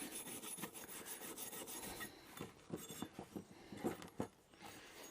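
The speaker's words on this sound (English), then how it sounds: "It's a little wire brush, about the size of a toothbrush." A small toothbrush-sized wire brush scrubs metal on a boat trailer, quiet close-up rasping in quick back-and-forth strokes, steady at first and then breaking into separate scrapes.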